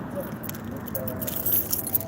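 Car keys jangle in a hand beside a parked car at a mall lot, small metallic clinks scattered over about two seconds against steady outdoor traffic hum, close and fairly loud.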